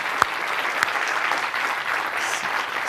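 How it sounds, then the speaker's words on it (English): Audience at a tech conference talk breaks into sustained applause for an attendee, a dense even clapping throughout with a couple of sharper claps near the start. "Nathan, you have to stand up and we're all gonna applaud you"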